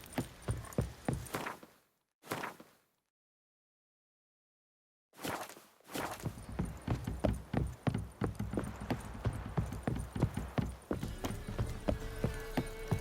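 Rhythmic hoof clip-clops of a horse on a hard surface in The Witcher 3: Wild Hunt, steady and moderately loud, broken by a brief silence before resuming at a trotting pace.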